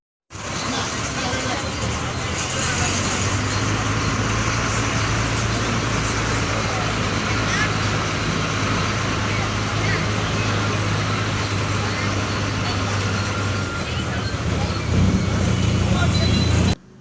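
Ride aboard a bus heading to Uthiramerur, a loud steady engine drone and road rumble inside the cabin with passing traffic outside, faint chatter of passengers mixed in.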